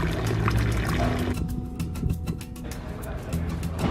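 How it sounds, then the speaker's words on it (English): Water streams steadily from a public drinking fountain on a street in Venice, a continuous splashing pour heard close up with a faint voice under it. "You'll see these fountains all over Venice. This is clean water."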